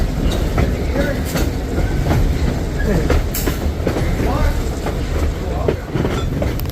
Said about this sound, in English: We welcome you aboard the Reading and Northern Lehigh Gorge Bike Train, the 9:15 Bike Train to Whitehaven